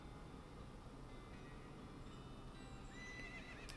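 A horse whinnies in the video game West of Loathing. The neigh is clear and sits over a steady, busy game background, with a rising squeal near the end.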